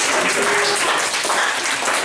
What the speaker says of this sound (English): come up to a round of applause